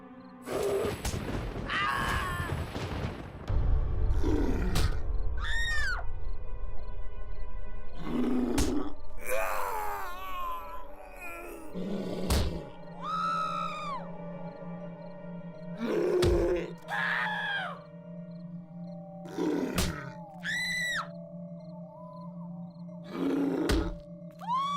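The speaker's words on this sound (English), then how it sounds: "I like to hear them scream." Undead corpses in Peter Molyneux's god game let out a string of drawn-out groaning, wailing screams, roughly ten separate cries spaced a second or two apart over a low steady background hum.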